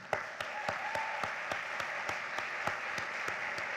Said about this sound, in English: This says thunderous applause.